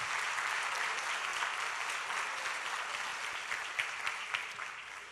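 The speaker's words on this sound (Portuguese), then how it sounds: "Eu queria uma salva de palmas para Deus" Congregation at a church youth service applauding, a steady dense wash of clapping that holds at an even level and fades slightly toward the end, with no talk over it.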